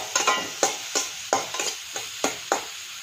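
Carrots fry in oil under a soft sizzle, punctuated by about nine sharp, regular scrapes or taps of a utensil against the pan, close by.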